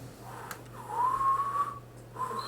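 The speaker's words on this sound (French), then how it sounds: "Putain, c'est la première fois que je siffle." A person whistles a single sustained, slightly wavering note, short and fairly quiet, with a brief fainter whistle near the end and a low background hum, no talk.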